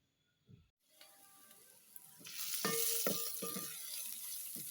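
Chopped onions frying in a pan for Mayai Waru, a hissing sizzle that begins softly, then swells into a steady, loud crackle with small pops as they cook.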